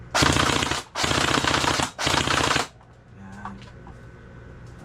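A UDL SIG XM7 gel blaster toy fires full auto in three loud, rapid bursts separated by short gaps, followed by faint background noise.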